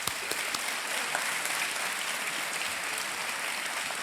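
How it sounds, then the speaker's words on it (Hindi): Studio audience on a televised quiz show clapping in a steady, dense burst of applause, fairly close and even in level for the full few seconds, with no talk over it. "तालियां बजती रहे"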